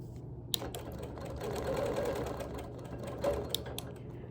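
A sewing machine quilts a baby loop meander in the background of an appliqué piece, its needle running in a fast steady buzz with slight speed swells and a couple of sharp clicks.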